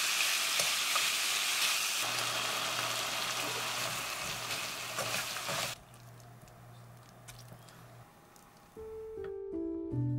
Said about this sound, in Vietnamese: Phần thịt để gói bánh, mình áp chảo cho thịt thơm và chín sơ rồi mới gói ha.